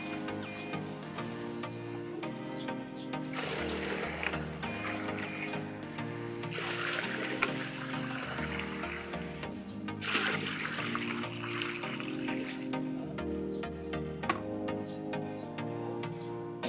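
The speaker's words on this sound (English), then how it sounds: "So first we are gonna fetch water from the pump and make the basin full." Water from a hand pump in a rural Philippine province gushes into a bathing basin in two strong bursts, with quieter trickling between them over a steady tonal background.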